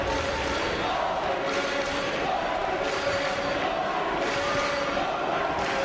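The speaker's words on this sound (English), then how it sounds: "The Swiss fans in the crowd making their presence known here." Swiss supporters in the crowd cheer and shout at a fistball bronze medal match against Brazil, a dense, fairly distant roar of voices rising and falling in waves across an arena.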